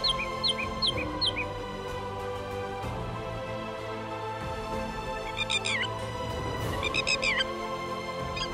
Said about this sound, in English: The red jungle fowl is the wild ancestor of the domestic chicken